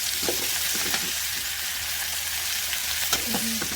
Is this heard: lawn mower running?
no